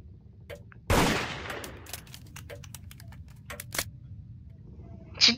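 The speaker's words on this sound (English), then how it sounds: "Shoot the pumpkins, they explode." Pumpkins are shot and explode in a multiplayer murder-mystery video game: one sharp, loud blast, then a run of quick faint clicks and taps and a final brief pop.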